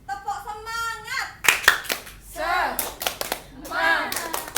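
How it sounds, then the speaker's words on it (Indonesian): A school class performs the tepuk semangat rhythmic clapping cheer during a microteaching lesson, sharp clustered claps alternating with children chanting and a teacher's voice. "Tepuk semangat."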